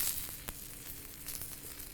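Onions sizzle and fry in a hot pan as they char and turn translucent, a steady close crackle with a few sharper pops and no talking.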